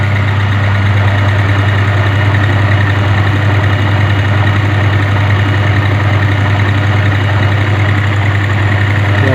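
A DC machine on a laboratory test bench runs at about 1300 RPM, giving a steady, loud, continuous hum with a strong low drone and no change in level. No one speaks over it.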